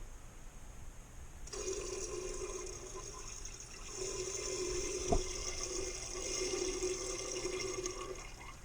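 Pressure is bled from a Hydraforce 300i dent repair tool, releasing water as a steady hiss and trickle that starts abruptly and runs on, with a single sharp click midway.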